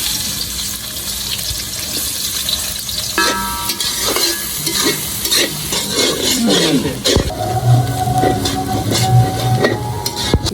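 Chicken frying in hot oil, a continuous crackling sizzle with scattered pops and stirring clatter that builds in the second half, fairly loud and close, no voices.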